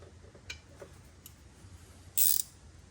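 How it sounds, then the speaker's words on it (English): A wrench turns the locking nut on the fan belt adjuster of a 1970 Mercedes-Benz 220 W115 clockwise, giving a few sparse metallic clicks and one brief, brighter ratcheting burst near the end, with no talking. "We'll put that back, that's clockwise obviously to tighten it up."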